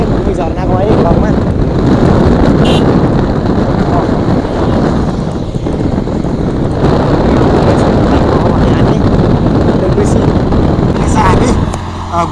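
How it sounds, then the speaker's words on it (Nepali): Strong wind buffets a microphone held close to the mouth at a hilltop park in Khatang, Surkhet, making a loud, continuous low rumble that runs the whole time, with traffic-like noise mixed in. "हावा यस्तो चल्यो"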